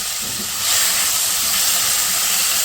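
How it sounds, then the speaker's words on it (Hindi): Chicken marinated with chili and salt fries lightly in hot oil, giving a steady loud hiss that swells after a brief quieter start and holds evenly, with no talking. "जो हमने मैरिनेट करके रखा था ना चिकन, मिर्च और उसके साथ नमक के साथ, वो मैं इसमें फ्राई कर लूँगी हल्का हल्का"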